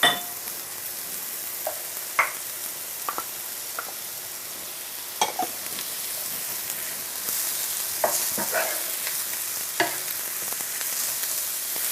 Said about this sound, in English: Now we'll let the mushroom and leeks cook for about 3 to 4 more minutes